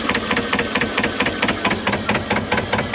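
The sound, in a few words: vintage Lister narrowboat engine running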